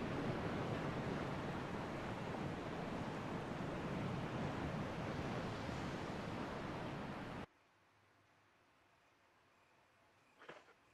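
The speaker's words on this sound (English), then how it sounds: "You can hear the sound of the waterfall in the distance." A distant waterfall in the Biohazard HD Remake video game gives a steady, broad rushing roar for about seven seconds, then cuts to quiet ambience with a brief faint sound near the end.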